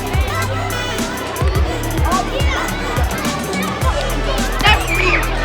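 Schoolchildren playing outdoors beside a school building, a lively babble of young voices and shouts at a distance, with someone talking nearby over the top.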